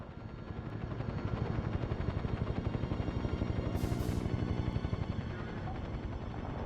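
Helicopter in the 007 Nightfire video game, a loud rapid rotor chop pulsing steadily for several seconds with a brief hiss partway through, no speech.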